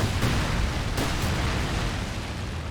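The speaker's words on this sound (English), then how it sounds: "We've got a Vet 3 mortar pit now and a 17 pounder. I'm going to fire them off right in the middle of these two." Shells from a veteran mortar pit and a 17 pounder gun bursting in Company of Heroes 2, a few dull booms and sharp cracks early on, then a low rumbling tail fading away.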